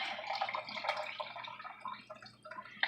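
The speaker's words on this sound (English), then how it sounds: "I'm gonna add some beef broth to just beefing it up a little bit." Beef broth is poured into a cooking pot, making a faint, short, continuous trickling splash of liquid that fades slightly toward the end.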